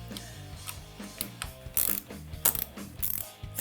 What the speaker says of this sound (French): l'étape suivante, c'est démonter donc les clampes de tes pontets. Donc pour ça, une petite clé de 10.